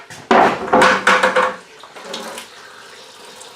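Leftover Star San sanitizer splashes out of a brewing pot in a loud, close, gushing pour lasting over a second, then thins into a quieter trickle and drip.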